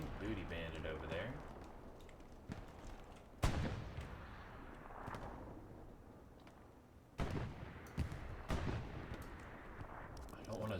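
Gunfire and artillery in an online video game match, with scattered shots and booming impacts at varying distances, including a few sharper, louder bursts over a continuous rumbling background.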